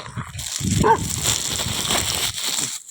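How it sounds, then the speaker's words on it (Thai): A dog barks close by, sharp and loud, with yips and whimpering noises in the mix. "ไอ้เก้งมึงจะเห่าทำไมเก้ง"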